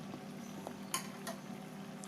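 Colocasia curry with chopped coriander leaves being stirred in a pan, a soft continuous scraping and gentle sizzle with a couple of brief spoon clinks, close and steady, no voices.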